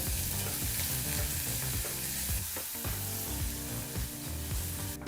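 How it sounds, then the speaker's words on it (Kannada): Finely chopped onion fries in oil over a medium flame with fennel and kasuri methi for a gravy, making a dense, loud, continuous sizzle throughout. "ಬಹಳ ಚಿಕ್ಕದಾಗಿ ಕಟ್ ಮಾಡಿದಂಥ ಒಂದು ಈರುಳ್ಳಿನ ಹಾಕಿ ಎರಡು ನಿಮಿಷ ಇದನ್ನೆಲ್ಲ ಫ್ರೈ ಮಾಡ್ಕೋಬೇಕಾಗತ್ತೆ"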